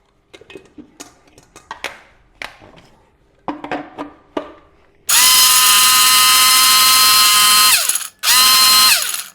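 A mixer grinder grinds edible gum (goond) for laddu in a home kitchen: first several short clicks and taps, then a loud, harsh whirring burst of a few seconds, a brief stop, and another short burst.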